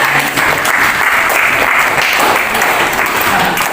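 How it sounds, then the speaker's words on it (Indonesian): Schoolchildren clap for a pupil in a classroom, a dense, steady patter of many hands that stays loud and even for the whole stretch, with no voices over it. "tadi tepuk tangan untuk Safi"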